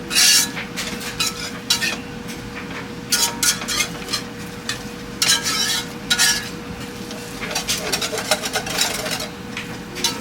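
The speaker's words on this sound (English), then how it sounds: "We'll let that cook and simmer for a minute. I'm gonna keep stirring it." Mushroom and onion gravy simmers in a pan while a utensil stirs it with repeated clinking and scraping strokes against the metal over a steady low bubbling, with no voices.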